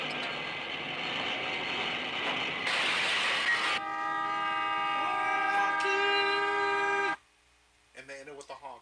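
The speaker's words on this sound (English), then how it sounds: "And they ended with the honk." A train horn blares in a played-back video clip, a long sustained multi-tone blast after rumbling rail noise, then cuts off abruptly, followed by a short burst of people talking nearby.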